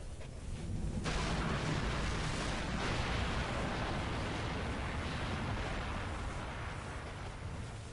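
Bombs fall and explode in Sniper Elite V2, a sustained, loud rumbling blast with a sharp onset that rolls on as a heavy, continuous roar.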